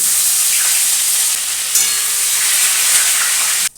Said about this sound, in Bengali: আমি ধনে আর তেজপাতা ফোড়ন দিয়ে দিয়েছি আর পাঁচ ফোড়ন দেব দিয়ে দিলাম পাঁচ ফোড়ন আর দিয়ে দিলাম আদা ফোড়ন